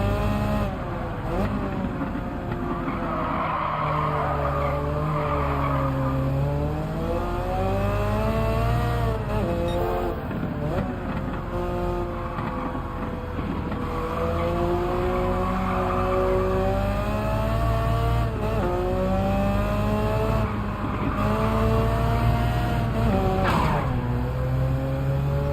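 A fast race car in Gran Turismo 7 drives hard with its engine roaring loud and close. The revs swing up and down through corners, with bursts of tyre squeal and skidding mixed in.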